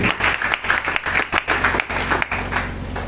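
A congregation claps in a quick, steady rhythm during a prayer service, the loud clapping filling the room over sustained musical tones.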